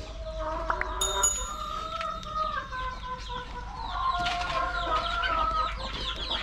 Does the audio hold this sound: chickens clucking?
yes